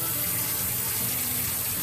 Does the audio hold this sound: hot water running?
yes